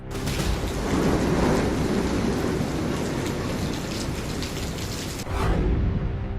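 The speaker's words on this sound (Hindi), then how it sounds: "तूफान की आहट के साथ आफत की बारिश।" Heavy cyclone rain pouring steadily during Cyclone Yaas in West Bengal and Odisha, with a deep rolling rumble of thunder underneath, loud and continuous, with a brief dip before the downpour resumes.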